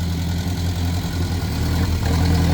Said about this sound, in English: Sean driving the tractor for the first time.